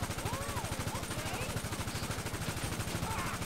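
Rapid automatic gunfire from a gun in GTA V Online, steady and evenly spaced, hammers on without a break at moderate volume.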